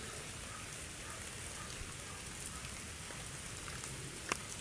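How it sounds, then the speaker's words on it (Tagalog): Rain falls steadily under a darkened sky, heard as a soft, even hiss of drops hitting surfaces at a distance, with one brief louder drip standing out near the end. "Grabe ang ulan dito sa amin"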